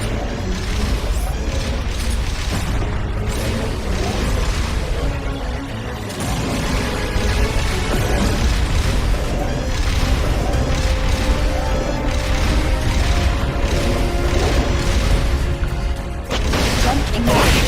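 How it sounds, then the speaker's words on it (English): Rocket launcher blasts and explosions boom in Metal Gear Solid Peace Walker, heavy crashes and mechanical clanks layered over a loud, dense battle din with faint voices underneath. "Firing rocket launcher."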